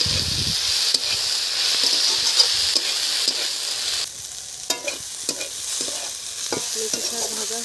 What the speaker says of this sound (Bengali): মেথি শাক ভাজা হয়ে গেছে